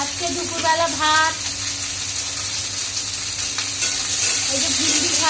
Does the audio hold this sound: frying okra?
yes